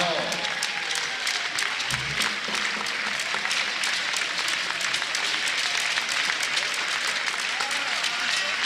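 A crowd of volunteers in an arena claps steadily and densely, sustained applause filling the space at even loudness from start to finish, with a voice briefly audible beneath it.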